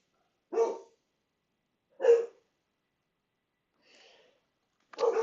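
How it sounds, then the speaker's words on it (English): Dogs barking nearby: three short, sharp barks spaced over several seconds with a faint yelp between, no talk over them. "the dogs are barking because I don't know why, but the dogs are barking"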